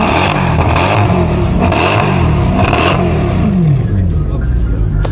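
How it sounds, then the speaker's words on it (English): A car engine revs loudly nearby at a cars-and-coffee meet, its growl rising and falling, with rattling and clatter mixed in and voices talking over it. "Give me a rev, dude."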